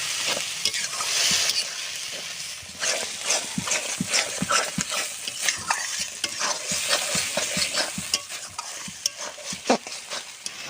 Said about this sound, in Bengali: টমাকুচি, হলুদ গুঁড়ো, স্বাদ মতন লবণ, মশলাটাকে সুন্দর করে কষে দেব।